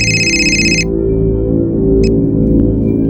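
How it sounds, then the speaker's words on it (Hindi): A phone rings briefly in a Mumbai home after dinner: a short, bright electronic ringtone that cuts off within a second, over a steady low musical bed. "जैसे हमने रात का खाना खत्म किया वैसे फिर से उसका फोन आ गया।"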